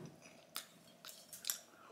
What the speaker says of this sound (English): Stop chewing.